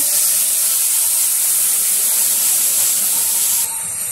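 Water poured into a pan of frying onion, green chili, turmeric and chili powder erupts into a loud, steady steam hiss and sizzle that runs unbroken for several seconds before cutting off abruptly, with village cooking of chicken curry.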